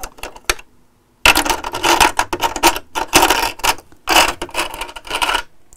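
Rummaging through a box of sewing tools for a screwdriver: loud, close clattering and rattling of metal and small objects in bursts for several seconds, with brief pauses, no talk.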